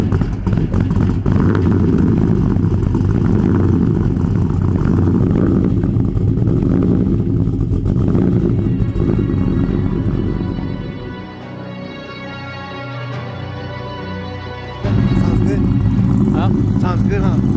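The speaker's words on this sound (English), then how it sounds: "Sounds pretty good. Let me show y'all." Chevrolet Trailblazer SS with long-tube headers, a Corsa exhaust and electric fans, engine held at a loud, dense rev, dropping back toward idle near the end before surging again, with voices talking over it.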